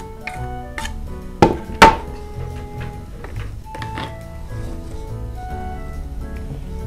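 Spring onions chopped on a board with a knife for kimchi, two sharp close thunks standing out over a low steady background.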